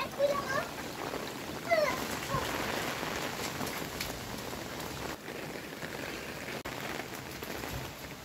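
Steady rain pattering on a rooftop while the roof is being cleaned, a close, even hiss that runs throughout, with faint voices near the start.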